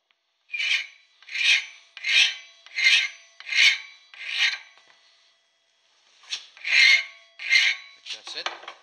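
A hand file rasps along the edge of a mild steel stove shovel in steady, loud back-and-forth strokes, six in a row, then a short pause, then several more ending in quicker, lighter rubs.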